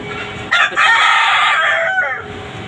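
A rooster on a poultry farm gives a single loud crow close by. It lasts almost two seconds, with a sharp onset, a sustained middle and a trailing end, and no one speaks.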